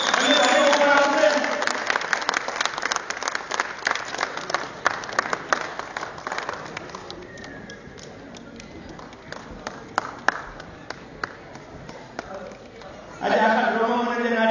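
An audience at a stage drama during a festival celebration claps in a loud, dense burst that thins into scattered claps, then swells again briefly at the end.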